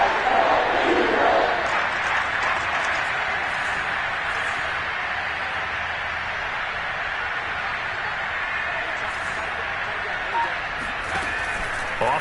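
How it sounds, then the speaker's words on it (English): Steady roar of a stadium crowd in a football video game, building ahead of a big third down, a dense continuous wash of cheering holding at a fairly even level throughout. "The crowd getting into it as we come up on a big 3rd down"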